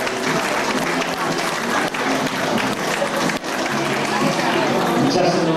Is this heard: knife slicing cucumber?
no